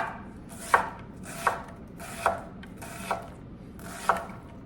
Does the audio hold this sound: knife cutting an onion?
yes